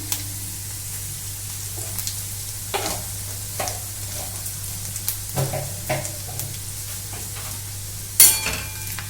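Garlic sizzles in hot oil for a red lentil and potato dish, a close steady frying crackle broken by intermittent stirring clicks and one sharp utensil knock near the end.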